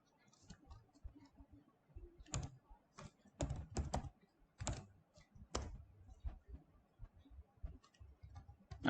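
Keys on a computer keyboard clack in short irregular bursts of quick taps with brief pauses between them, close and clear against a quiet room while a command is typed.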